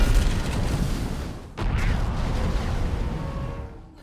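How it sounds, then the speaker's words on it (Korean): Explosion effects from Michael Bay's action film 6 Underground: a loud, sustained rumbling blast with a brief dip and a second surge, fading out toward the end. "또 폭발하고"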